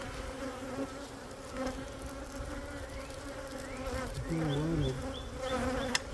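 Honey bees swarming around a temporary hive during a spring inspection, a dense close buzzing drone throughout with individual bees whining past, no voices.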